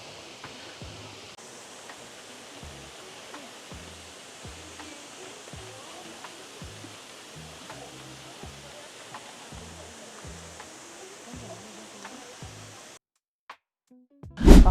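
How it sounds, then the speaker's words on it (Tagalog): Chonjeon waterfall in Jeju, a steady broadband roar of falling water heard up close for about thirteen seconds, then cutting off abruptly near the end. "Ayan na ang second waterfall."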